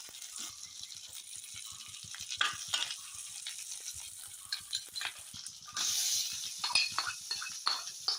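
Garlic and ginger sizzle in a hot pan, a steady crackling fry broken by the clink and scrape of a stirring spoon and a louder burst of hissing partway through.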